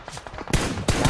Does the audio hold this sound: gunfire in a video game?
yes